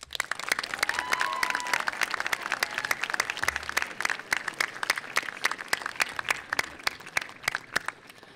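A graduation ceremony audience claps for the seniors' parents and guardians, a dense sustained round of applause from many hands throughout, filling the hall with crisp, scattered claps and no speech over it.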